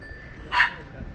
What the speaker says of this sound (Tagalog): Maraming aso dito guys.